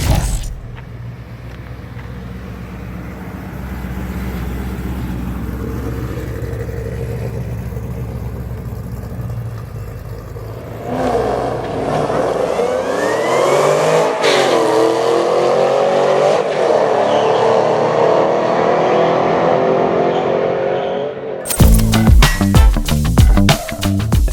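A race car running a lap, its engine droning steadily before climbing into louder, higher revving through gear changes, heard from inside the car with no talk.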